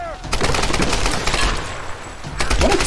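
Rapid gunfire from the video game Tomb Raider rattles through most of the stretch in dense bursts, with a voice talking over it.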